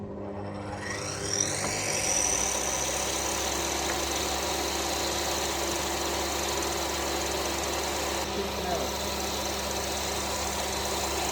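A chainsaw mill on a farm, set up to cut home-grown timber, drones at a steady, even pitch with no pauses, close and moderately loud, after a brief rise as it spins up.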